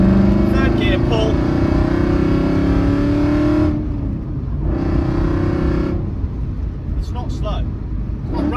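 A 2007 Aston Martin V8 Vantage 4.3 pulls hard in third gear, its engine droning loud and close with a rising tone, then easing off and coming back on, with someone talking over it.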